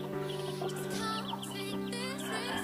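A broody hen sitting on chicken and duck eggs clucks and makes soft, drawn-out vocal calls in a steady run of sounds, close and moderately loud.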